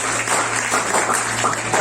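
Applause from an audience for a speaker at a stress-management talk, a steady wash of many hands clapping at close range, with a constant low hum underneath.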